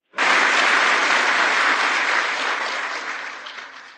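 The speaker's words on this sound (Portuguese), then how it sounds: "como poderia fazer cessar esses aplausos?" An audience bursts into applause at a formal gathering. The clapping is loud and sustained for about four seconds, then starts to fade, with no talk over it.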